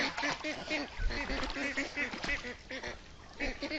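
Farm ducks in a village wetland in Bangladesh quack and honk in a busy, overlapping chorus, close and continuous, with a faint background murmur.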